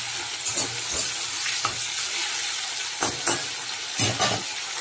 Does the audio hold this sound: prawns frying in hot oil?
yes